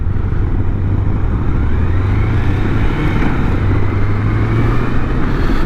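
Steady engine drone and wind rush from a Honda CB750 Nighthawk motorcycle while riding, with a continuous low rumble holding loud and even throughout and no talk.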